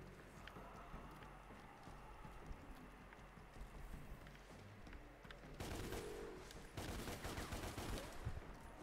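Gunfire from the Devil May Cry reboot video game, a dense rattle of shots over busy game ambience and music, swelling into louder bursts toward the end.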